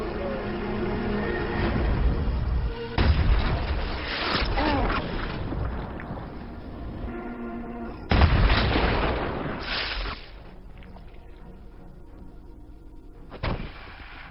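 Sniper rifle shots in a film scene, sharp loud reports that burst out at a few points and leave decaying echoes, mixed with background score and some talk.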